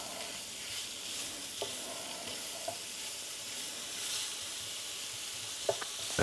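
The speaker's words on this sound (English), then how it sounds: "we're going to put in the sausage. What you want to do is get this browned on all sides" Cut-up sausage pieces browning in a hot frying pan, giving a continuous close hiss and sizzle with a few light stirring clicks and pops, no voices.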